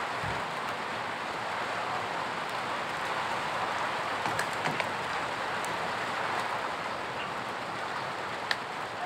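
Steady rain falls beside a planting plot, a dense continuous hiss with a few sharper drop taps, close and moderately loud, with no voices.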